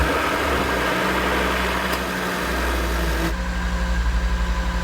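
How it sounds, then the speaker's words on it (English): An Audi RS3 8Y engine idles freshly after an oil change, a steady, smooth low rumble up close that settles into a slightly pulsing beat near the end, with no voices. "Well, this engine sounds amazing."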